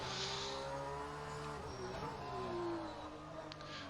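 A GT race car in rFactor 2 at the Hungaroring accelerates briefly and then brakes hard, the engine tone rising and falling under a constant close-up roar.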